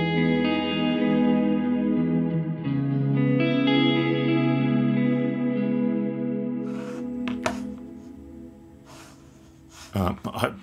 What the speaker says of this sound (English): that's a lovely delay, a lovely reverb,